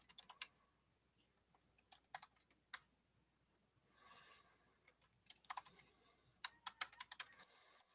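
Typing on a computer keyboard while editing code, a quiet close run of sharp key clicks arriving in uneven bursts with short pauses between them.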